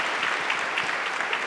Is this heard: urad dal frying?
no